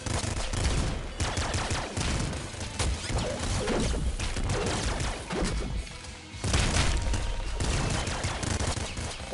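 Rapid video game gunfire from the top-down shooter Nuclear Throne comes in dense, overlapping bursts of crackling shots and impacts. It stays loud and busy throughout, with brief lulls between volleys.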